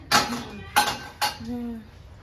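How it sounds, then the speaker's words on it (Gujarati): Metal utensils and dishes clatter and clink while being washed and scrubbed by hand, three sharp bursts with a ringing tone after the last one, close by. "મારી મમ્મી ઉટકે છે વાસણ"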